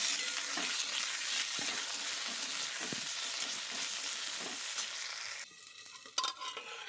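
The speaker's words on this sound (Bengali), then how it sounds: "তেজপাতা একটা শুকনো লঙ্কা একটু জিরে দিয়ে ভালো করে ভেজে নেব লাল লাল করে আলুটাকে ভাজবো" Potatoes fry in oil with a bay leaf, dried red chili and cumin, a dense continuous sizzle with soft stirring taps, close and even, dropping in level near the end with a few clinks.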